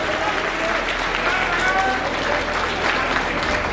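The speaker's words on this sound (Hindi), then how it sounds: "तालियों में कोई कंजूसी नहीं।" Audience applause at a rally in Moradabad where Chief Minister Yogi Adityanath hands over house keys to beneficiaries, a dense, steady wash of clapping filling the whole stretch with crowd noise beneath.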